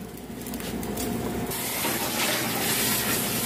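Water poured or running into a pot for peeled potatoes in a home kitchen, a steady loud gushing splash that grows fuller partway through and continues without pause.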